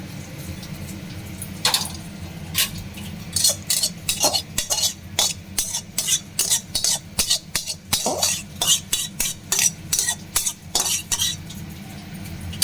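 Rui fish rezala gravy stirred in a pan, with a utensil scraping and clinking against the metal in an uneven rhythm of sharp taps over a low, steady simmer.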